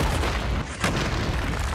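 A cannon blast in a Russian war film hits as a dense, loud burst of roaring noise that swells again sharply midway, with no voices.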